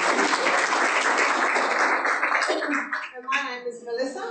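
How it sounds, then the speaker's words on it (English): Audience applause at a health seminar on pulmonary arterial hypertension in Perth, a dense clapping burst that fades after about three seconds as a voice begins speaking. "So a big clap of applause for the girls."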